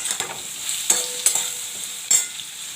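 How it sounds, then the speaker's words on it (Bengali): Potatoes and eggplant fry in a pan with salt and turmeric as a utensil stirs them, with a steady sizzle and several sharp scraping strokes, up close, no talking. "এবার নাড়বো"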